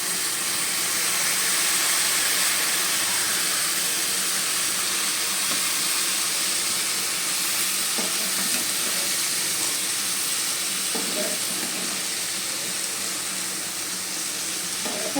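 Spice paste and soybean chunks frying in a pan give a steady, close sizzle with soft stirring scrapes throughout, and no one speaks.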